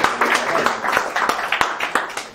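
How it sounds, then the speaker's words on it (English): An audience at a generative networks symposium applauds a speaker, with a loose run of individual claps from a small crowd, close and fairly loud, sounding sparse rather than roaring. "let's give him a round of applause"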